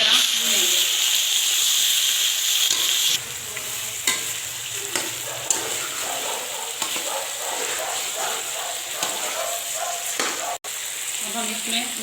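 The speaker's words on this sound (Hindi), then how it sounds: "अब हम इसमें अपना चिकन डालेंगे और इसी तरह भूनेंगे।" Chicken frying in a pan for a chicken qorma, with ginger already in the oil, sizzling steadily and loudly up close while a spoon stirs through it, the sizzle easing slightly after a few seconds and carrying on with occasional scrapes.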